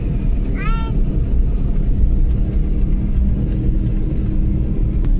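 A car driven along a road gives a loud, steady interior rumble of engine and tyres, constant and close throughout, with a brief high chirp early on.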